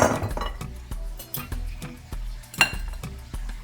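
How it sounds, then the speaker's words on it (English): Eggs are cracked against a bowl for a carrot cake batter. A string of sharp, close taps and clinks comes at an uneven rhythm, and one louder crack stands out near the end. "Alright, so I'm gonna crack my eggs."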